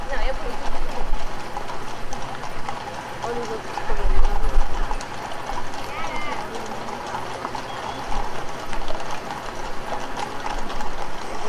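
Horses of the Horse Guards gather in a busy London street before a royal ceremony, their hooves clip-clopping on the road under steady crowd chatter and traffic noise.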